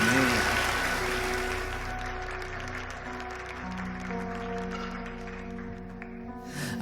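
A church congregation at a Brazilian Pentecostal-style service applauds, a dense wash of clapping that slowly fades over several seconds while sustained keyboard chords play beneath and a voice briefly speaks.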